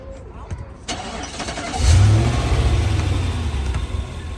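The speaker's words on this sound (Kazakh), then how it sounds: "Машинаны қосып жіберейін да." A car engine cranks and catches, then settles into a loud steady rumble with some revving, heard up close while someone speaks nearby.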